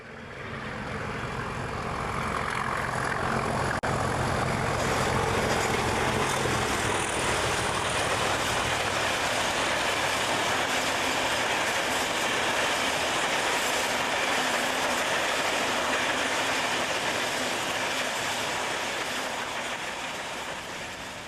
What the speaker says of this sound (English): a loaded steel train passes through